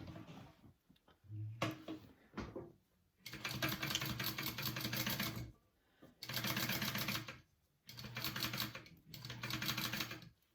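A sewing machine stitches along a zipper at the top of a fabric tube bag, running in several loud bursts of rapid mechanical whirring separated by short pauses, with a few handling knocks at the start.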